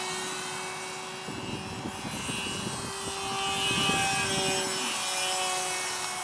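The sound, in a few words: R/C XB-70 Valkyrie model jet flying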